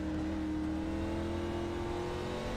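An ARCA race car in a racing video game running flat out on a long straightaway, a steady, loud, droning engine note holding a constant pitch throughout, with no talking.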